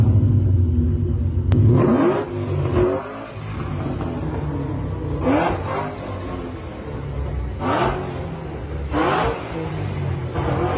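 A car engine revs up several times in repeated rising bursts, loud and close, with steady idle rumble between the pushes and no talking.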